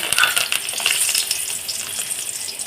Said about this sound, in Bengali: দেখুন এইভাবে আমি তেলের মধ্যে দুটো কারি পাত্তা দিয়ে দিয়েছি এইভাবে আমি ভেজে নেব